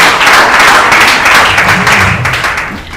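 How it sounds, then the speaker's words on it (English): Loud, close applause from a ceremony audience greets a guest arriving at a student digital-skills event, a dense wash of clapping that holds strong and then begins to taper. "please give her a round of applause as she comes in now"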